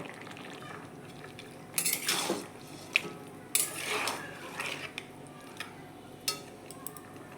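A metal lid comes off a cooking pot of chicken soup with potatoes, with a few close clanks and scrapes of cookware in a quiet kitchen, two sharper clusters followed by a lighter knock later.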